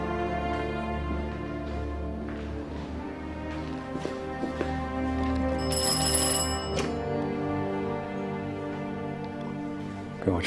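A telephone rings in the commander's home in a Chinese wartime drama, its bright repeated ringing steady and close for the whole stretch over a low, dense background.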